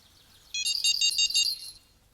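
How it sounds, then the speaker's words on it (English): Fishing bite alarm in the video game Fishing Planet dinging in a quick run of bright electronic beeps lasting about a second, clear and close against near silence. "you wait on the ding, ding, ding, ding, and the alarm doesn't mean a thing"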